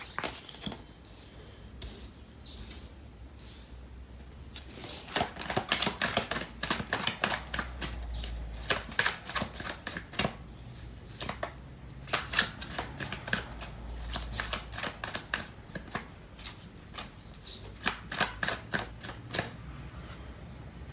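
Tarot cards are shuffled by hand in repeated bursts of riffling and soft slapping, close and fairly quiet, with brief pauses between rounds.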